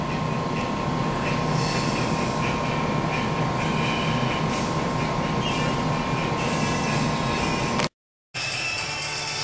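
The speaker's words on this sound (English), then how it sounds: "So the air handler is on." An air handler runs in a rowing-shell workshop, giving a steady, loud broadband rush with a faint constant whine. It drones on evenly with no talking, then cuts out for a moment near the end.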